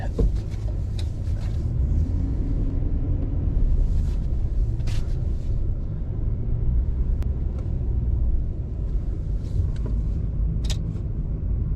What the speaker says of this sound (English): let's put it in 4-wheel high, so we're gonna go through the mud